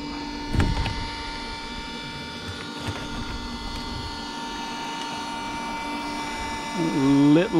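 A blower runs with a steady mechanical hum and whine, loud and close, with a few knocks and a rising warble near the end; a voice speaks over it.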